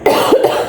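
A single woman's cough, close and loud, a short rough burst with a second throaty hack right after, nothing else around it.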